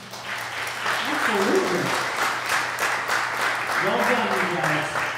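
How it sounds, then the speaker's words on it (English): A church congregation applauds, a steady, dense wash of clapping that fills the room, with a voice speaking briefly over it. "We can clap for this."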